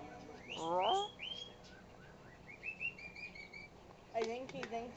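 A pet bird chirps and squawks indoors in several distinct bursts, a loud harsh call at the start, a run of short whistled chirps midway, and another squawk near the end.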